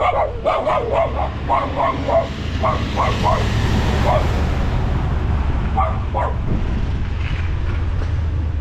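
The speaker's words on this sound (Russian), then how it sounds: "Собаки." Several dogs bark in rapid bursts on a mountain trail route in Crimea in winter, fairly close, over a constant loud rumbling background, with a few later barks more spaced out.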